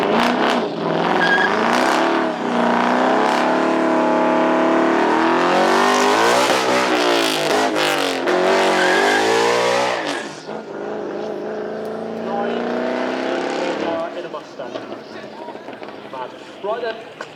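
A 900-horsepower supercar on a circuit during a track weekend, its engine revving loud and high before the note sweeps down as it passes. Quieter engine noise follows, with a commentator talking throughout.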